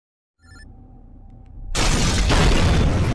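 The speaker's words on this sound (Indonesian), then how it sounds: "Mobil yang ditumpangi Diwan tiba-tiba meledak." A quiet hum gives way to a sudden loud, sustained blast as a car explodes, with a rumbling, crackling roar that fills the rest of the moment.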